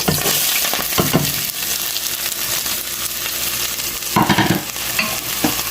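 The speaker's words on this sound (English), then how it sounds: "I have 2 tablespoons of cooking oil in there, that's hot. And I'm going to be putting in the onion and the celery into it right now." Chopped onion and celery sizzling in hot cooking oil, a loud continuous crackling fry with occasional clinks and stirring scrapes, and no talking.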